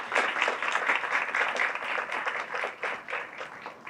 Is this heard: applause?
yes